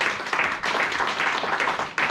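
A church congregation clapping together during worship, a dense, continuous wash of many hands at a steady pace, loud and close with no speech over it.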